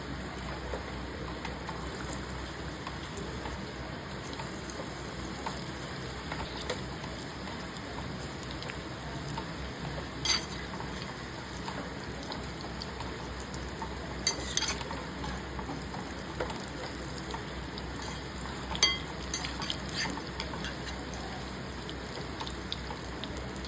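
Mini potato vadas deep-fry in hot oil, giving a steady, dense crackling sizzle throughout with occasional sharper pops and spatters, close by and without any speech.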